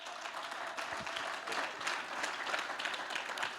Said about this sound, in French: Dans le nom de Jésus, acclamons le Seigneur.